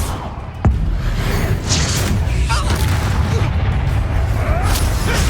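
A Bombarda blasting spell explodes in the Hogwarts Legacy video game: a sharp, loud boom early on, followed by dense, rumbling combat noise and whooshes.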